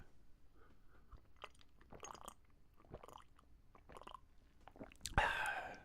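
Close, quiet sips and gulps from a cup of tea, with soft swallowing and mouth sounds, then a louder clink or splash near the end.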